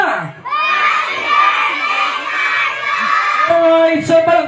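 A group of children at a first birthday party shouts happy birthday together loudly, a sustained chorus of high voices that swells and then trails into scattered calls.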